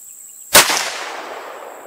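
A single sharp rifle shot from a CVA Scout in .35 Whelen firing Remington Core-Lokt 250-grain ammunition cracks loudly after a quiet moment, then its echo decays over the next second.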